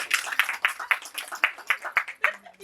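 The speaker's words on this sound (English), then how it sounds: "Round of applause." Audience applause after a speech, a short burst of brisk clapping from a small group, close and lively, fading quickly after under three seconds.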